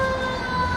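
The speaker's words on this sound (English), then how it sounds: "As the siren comes by" An emergency vehicle siren sounds loud and close as it passes along a street, a steady wailing tone with strong harmonic bands over road rumble, alone with no talk.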